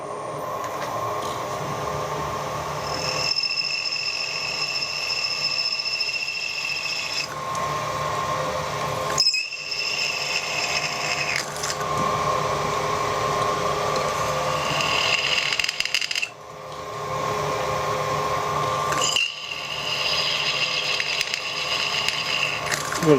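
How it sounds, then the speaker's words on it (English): A steady mechanical whine of an HSS drill bit grinding into 6mm stainless steel, continuous and fairly loud, with brief pauses and shifts in pitch as the bit bites. "it's drilling it"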